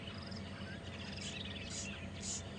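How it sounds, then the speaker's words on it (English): Birds and baby chicks tweet from a thick twig nest on an evening safari drive at Djuma and Arathusa, faint high chirps over a steady hum of insects and distant ambience. "that would be the origin of all the birds tweeting that you can hear around us"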